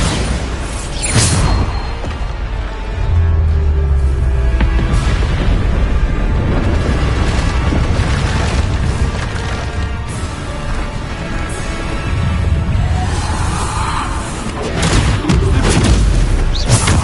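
Bombarda spell blasts in the video game Hogwarts Legacy, repeated heavy booms and rumbling explosions layered over dense continuous battle noise, loud throughout.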